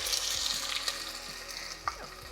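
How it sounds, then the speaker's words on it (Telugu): Onion paste fries in oil in a pan for crab curry, a steady close sizzle with faint stirring scrapes and small pops. "ఈ పేస్ట్ని బాగా నూనె మీదకి వచ్చేదాకా ఫ్రై చేసుకోండి."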